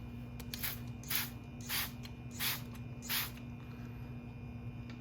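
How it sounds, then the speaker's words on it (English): Short bursts from a spray bottle misting water onto a CeraTex-coated leather glove, five evenly spaced hissing spritzes about half a second apart over a faint steady background hum. "I'm gonna spray it down with water"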